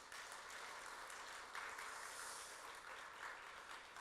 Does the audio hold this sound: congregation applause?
yes